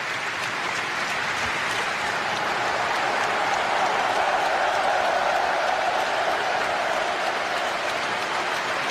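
A football stadium crowd and the team bench applaud together in a steady, dense wash of clapping that holds evenly throughout at a moderate distance.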